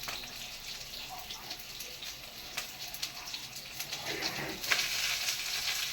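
Coriander seeds fry in a pan for tomato chutney, giving a faint, steady sizzle with small crackles and pops and a brief stir-like rustle, no voices.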